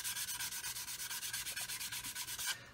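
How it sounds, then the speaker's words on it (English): Rapid, even back-and-forth strokes of sandpaper rub across the plastic of a Roden C-141B Starlifter model kit, a soft scratchy rhythm close to the ear with no voices. "So I'm just going to sand"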